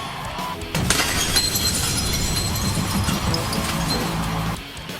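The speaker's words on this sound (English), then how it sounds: "Hillary Clinton appeared at the convention by breaking the glass wall" A glass wall shatters at a political convention, a loud sustained crash of breaking glass that lasts several seconds before tapering off, with crowd noise mixed in.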